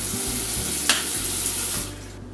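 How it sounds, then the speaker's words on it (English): Water sloshes inside a small plastic mouth guard case as it is shaken close up in a steady rhythm for about two seconds. "Now I'll put some water in here and shake it up"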